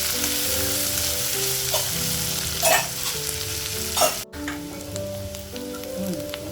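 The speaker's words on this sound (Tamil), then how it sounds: "இந்த வெங்காயம் கொஞ்சம் எண்ணெயில் வதங்கட்டும்." Onions and four broken dried chillies fry in oil in a pan for a potato side dish, a steady loud sizzle with occasional stirring scrapes over a faint tonal hum.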